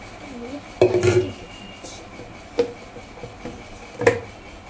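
Spice jars are handled in a kitchen, producing three distinct clinks and knocks of jars being set down or moved, spaced out over a quiet background.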